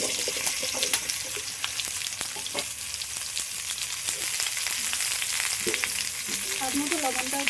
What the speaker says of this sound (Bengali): এই মাছ ভাজার তেলের মধ্যে আলু আর পেঁপেগুলো দিয়ে দেবো।